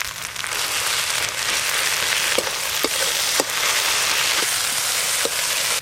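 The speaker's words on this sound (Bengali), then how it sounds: "এবার যতক্ষণ না জল শুকিয়ে যায় ততক্ষণ এইভাবে নাড়তে থাকবে।" Moringa (sajne) leaf paste with salt and turmeric hisses steadily as it fries in a pan, broken by a few light clicks from stirring; no voice is heard.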